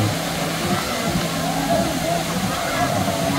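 River current rushes from a waterfall in Pangasinan, a steady, loud roar of flowing water that never lets up, with faint voices mixed in underneath.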